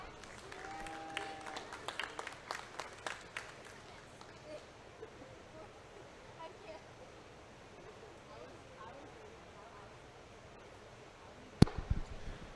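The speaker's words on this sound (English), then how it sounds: "So let's give him a nice big round of applause." Audience clapping at a 2020 county junior fair dairy feeder calf show. It is a burst of applause in the first few seconds that fades into room murmur, with a sharp knock near the end.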